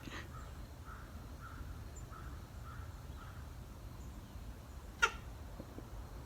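A person imitates crows with a string of faint, distant caw-like calls repeating at an even pace, followed by one brief sharp click.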